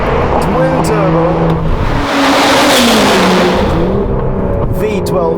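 A 5.2-litre twin-turbo V12 in an Aston Martin DBS Superleggera revs loudly, rising and falling in pitch as it climbs through the revs and drops back, with someone talking over it.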